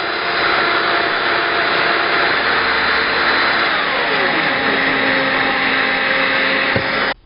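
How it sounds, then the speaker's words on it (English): A Festool Domino XL joiner runs with a steady, loud, high-pitched whirring drone as its rotating cutter oscillates side to side, hollowing a mortise, before cutting off abruptly at the end. "the Domino XL has a rotating cutter, and as it rotates, it spins side to side, hollowing out material to create a mortise"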